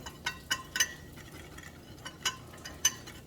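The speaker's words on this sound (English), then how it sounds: "I'm just going to whisk that all together." A whisk clinking against a bowl while ginger is beaten into a mixture, a handful of sharp, irregular metallic taps and scrapes spread over a few seconds, close but fairly quiet, with nobody talking.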